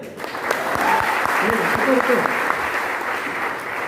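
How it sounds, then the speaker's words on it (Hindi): Audience clapping at a network-marketing success-story event in Varanasi: steady, sustained applause from a crowd, with a voice speaking faintly underneath. "आप तो ताली बजा रहे हो।"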